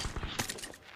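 Rapid video game gunfire in a flying fish battle royale match comes as a quick burst of several sharp shots in close succession, fairly faint, under a player's voice.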